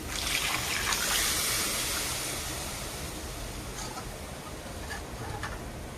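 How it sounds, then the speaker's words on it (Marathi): Water pours steadily into a pan of fried spice masala for Rajasthani gatte curry, with a rushing, splashing hiss that is loudest at first, then settles into a softer trickle. "आता ह्याच्यामध्ये मी पाणी ओतून घेते"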